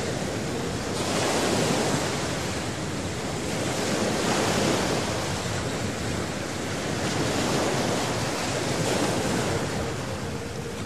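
Steady, loud surf breaking on a gently sloping beach in Crimea, a continuous wash of waves with wind noise across the microphone and no voices.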